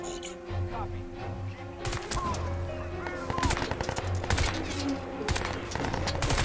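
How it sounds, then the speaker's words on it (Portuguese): Rapid automatic gunfire in the video game Crysis 2, with bursts of shots crackling loud and near over a steady low game hum, the firing growing denser after the first couple of seconds. "olha lá, tomando tiro e não morre."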